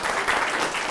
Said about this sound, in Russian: Нет, нет, пусть будут аплодисменты